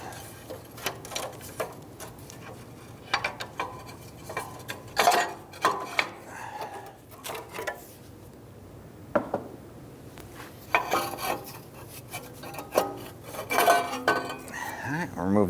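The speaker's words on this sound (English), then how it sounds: "we'll have to use our pry bar again, just to shift those lines just a little bit" Metal pry bar scraping and clinking against transmission lines under a 1999-2004 Jeep Grand Cherokee 4.7L V8, with scattered close taps and knocks in an irregular rhythm, separated by quiet pauses.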